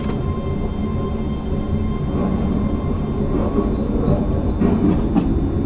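A mountain railway train on the Hakone line to Gora in a Japanese rail simulator rumbles steadily along the track, with a constant low roll, faint wheel squeal and clicking, loud and close throughout with no voices.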